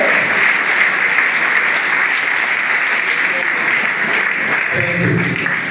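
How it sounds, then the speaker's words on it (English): An audience at a groundbreaking ceremony for an entrepreneurship center at Yaba Tech breaks into loud, dense, sustained applause that keeps going without a break, with a voice briefly rising near the end. "Can you please give Baba another round of applause?"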